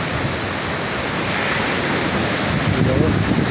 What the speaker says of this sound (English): almost like man-made waves rolling in, you know? Wow. So it has that kind of effect, you know, they just keep rolling in one after another